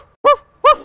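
A man on a French television comedy show imitates a dog barking with his voice, giving two short, loud, honking barks separated by a brief pause.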